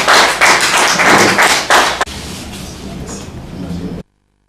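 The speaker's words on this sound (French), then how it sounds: "Monsieur Mahamadou Issoufou Abdoulaziz, qu'on va applaudir maintenant." An audience claps loudly and steadily for about two seconds at a gathering where names are called out one by one. The clapping thins out under talk and murmur, then cuts to silence.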